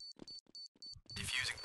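The planted bomb beeps in the video game Counter-Strike Condition Zero, four short, high, evenly spaced electronic tones that quicken slightly. A soft muffled voice sits between them, and a burst of broad noise follows at the end.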